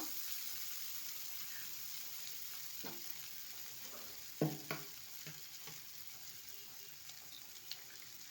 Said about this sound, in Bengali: এবার এটাকে ভালো করে নেড়ে চেড়ে নিতে হবে